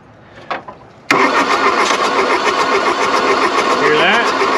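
VW Golf I diesel engine cranking hard on its starter, with a loud, continuous rapid churning that begins abruptly after a quieter moment near the start and carries on to the end.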